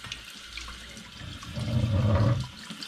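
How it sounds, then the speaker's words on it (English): Glass cider bottles are rinsed under a running tap, the water hissing softly at first and then swelling into a louder, fuller gush for about a second before easing off, with no voices. "All that remains now is to rinse the bottles,"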